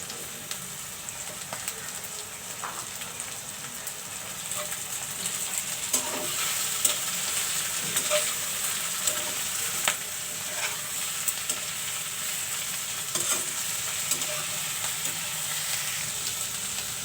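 Onions and chillies fry in a pan with a steady bright sizzle that runs throughout, broken by occasional clinks and scrapes of stirring, close and moderately loud.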